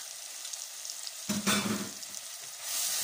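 Seasoning spices, chili flakes, ginger, cinnamon, thyme and rosemary, stirred in a hot frying pan with kidney beans, rice and carrots, giving a soft steady sizzle that swells with a brief burst of scraping and frying noise partway through.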